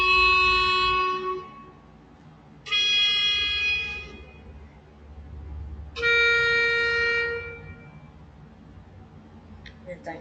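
Three long, sustained reedy notes like a clarinet, each held a second or two with gaps between, thin and close as if from a small speaker.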